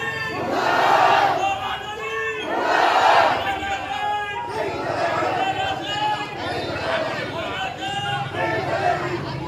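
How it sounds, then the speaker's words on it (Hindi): Protesters in Aonla, India chant slogans against the municipal council chairman, a loud crowd of many voices shouting together in rhythmic surges that stay close and fill the whole stretch. "चेयरमैन के खिलाफ लगाए गए मुर्दाबाद के नारे"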